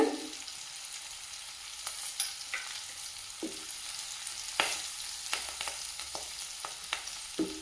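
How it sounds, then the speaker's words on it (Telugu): Green chilies fry with ginger garlic paste in a pan for a ridge gourd dal, giving a soft, steady sizzle under scattered stirring clinks and scrapes, heard close with no one talking. "పచ్చిమిరపకాయలు బాగా ఫ్రై చేసుకోవాలి అల్లం వెల్లుల్లి పేస్ట్"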